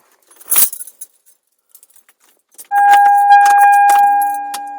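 Car keys jangle briefly and close by in a Toyota Celica with a 3S-GTE engine swap, followed by a steady electronic tone and chime as the ignition is switched on.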